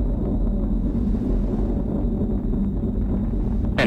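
An Atlas V rocket with its RD-180 engine and solid boosters roars during ascent, a steady deep rumble heard from a distance without breaks, ending with a brief sharp noise.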